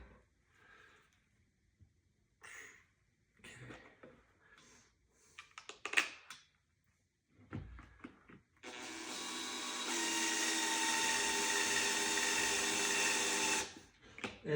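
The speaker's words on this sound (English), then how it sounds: "See if our drill will work." A power drill drives screws during assembly of a Wayfair Gilman height-adjustable desk. Light clattering of parts and handling comes first, then a loud, steady drill whine runs for about five seconds before stopping.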